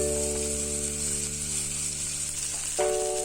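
Two tomatoes frying in oil with onions on a high flame for a pabda fish curry; a strong, even sizzle continues close by with a steady hum beneath, and a brief utensil clatter comes near the end.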